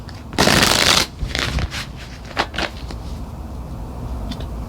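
Tarot cards are shuffled close up in a few quick riffling bursts, one long rustle followed by shorter flicks and taps, then a quieter pause, with no talking.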